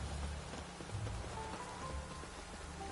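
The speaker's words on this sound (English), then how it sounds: "Looks like rain." Rain falls in The Witcher 3, a steady dense patter on surfaces that holds at an even level for the whole stretch, with no voices and no other distinct sounds.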